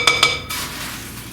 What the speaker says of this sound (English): let me mix this all together